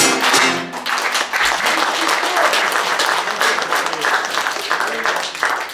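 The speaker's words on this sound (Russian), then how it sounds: "Хлопаем." A crowd at an evening of songs at the Mayakovsky Museum in December 2011 breaks into sustained, dense applause that stays loud and even for several seconds before slowly thinning.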